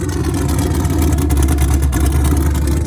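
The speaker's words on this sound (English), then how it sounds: "I haven't heard this thing running in about 2 years" A car engine runs for the first time after sitting two years, a loud, steady close-up rumble with a custom-welded exhaust, alone without talk.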